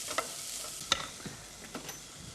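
Onions sauté in a pan, a quiet steady sizzle broken by several distinct stirring scrapes and clinks of a spoon against metal, close and unhurried, with no talking.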